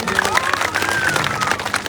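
Audience at a public gathering breaking into loud clapping and cheering for the village headman, a busy, continuous burst of applause with scattered shouts throughout.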